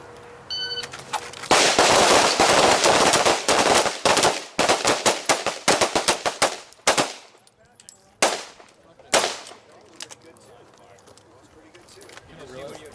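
Rapid pistol shots ring out in a live-fire drill with a red-dot-equipped pistol, sharp cracks in quick strings and pairs, loud and close, with short pauses between volleys and faint talk at the start.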